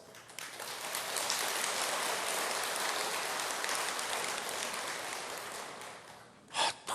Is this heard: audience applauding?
yes